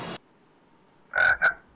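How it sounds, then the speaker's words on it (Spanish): A frog in the Minecraft video game croaks twice in quick succession, loud and close, after a brief opening sound and a short silence. "Una ranita."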